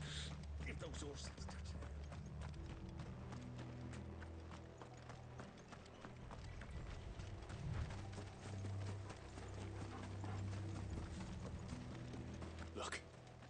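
Horses' hooves clip-clopping steadily in the video game Final Fantasy XVI, a continuous trotting rhythm heard under game music and speaking voices.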